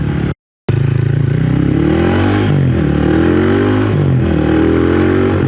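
A motorcycle engine revs hard after a brief silence, its pitch sweeping up and down in repeated throttle blips, loud and close with a rattling, clattery edge.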